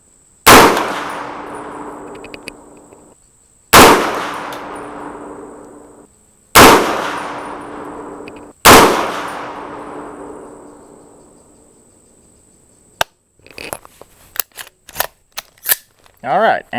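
Four loud .300 Blackout rifle shots at a target ring out at steady intervals, each with a long decaying echo, followed by a scatter of sharp clicks and metallic handling clatter.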